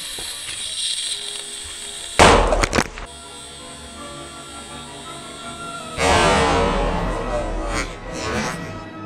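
A Taguine T19 airsoft grenade from Airsoft Pyrotechnique detonates in two loud bursts, a sharp crackling bang at about 2 s and a longer, sustained roar from 6 s, over a low background hum.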